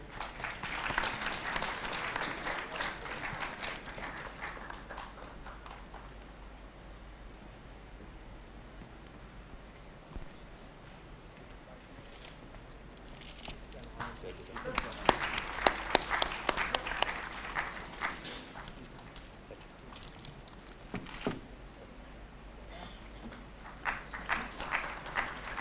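Audience applause at a Youth 20 consultation event at IIM Raipur, moderate clapping from a hall that rises at the start, thins out to a faint rustle, then swells again in a second burst before tapering off.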